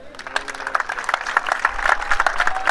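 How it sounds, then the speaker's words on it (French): A crowd applauds at the podium ceremony of an equestrian championship, the Pro Elite in Vittel, with quick overlapping claps that build into loud, dense applause, a few voices rising over it. "Et on peut applaudir toute l'équipe, s'il vous plaît, très fort."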